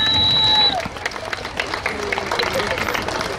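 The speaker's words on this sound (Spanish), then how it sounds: "Los aplausos para" A festival crowd applauds the voladores of Cuetzalan at a town fair, scattered clapping and cheering heard under an announcer's amplified voice, with a brief whistle-like tone at the start.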